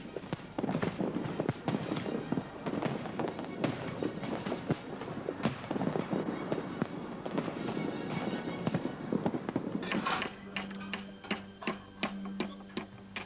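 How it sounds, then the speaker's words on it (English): A large Grucci fireworks display crackles and bangs in rapid irregular bursts, dense overlapping pops at moderate distance, then shifts to sparser, sharper reports near the end. "fireworks are a unique mixture of art and science"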